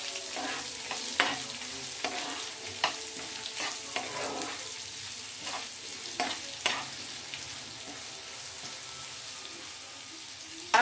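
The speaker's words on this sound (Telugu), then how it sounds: "ఉల్లిపాయ ముక్కలు బాగా వేపాలి" Chopped onion pieces fry in a pan with a steady hiss and sizzle, broken by scraping stirs of a spoon at irregular intervals, close and continuous without speech.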